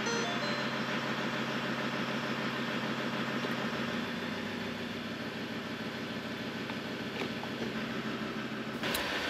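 Engine of a Mazda BT-50 / Ford Ranger pickup idling while the transmission is run through its gears, a steady droning hum with a warbling, pulsing tone throughout and a faint click near the end.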